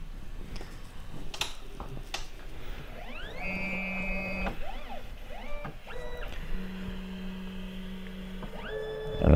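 EufyMake E1 UV printer running its rotary auto-measure routine: a series of short motor whirs and rising servo tones, interspersed with faint clicks and a low steady hum, close and moderately quiet.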